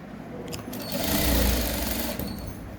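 A sewing machine stitches around the waistband of children's elastic shorts, running in a continuous close whirring burst that swells in the middle and carries on without talk.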